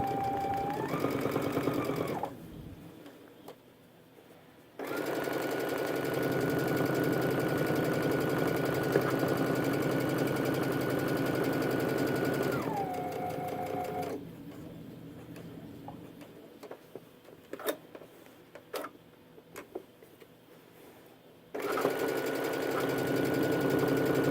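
Sewing machine back-stitching a backpack pocket runs in long steady stretches with a rising pitch at each start, broken by quiet pauses filled with small clicks and handling taps.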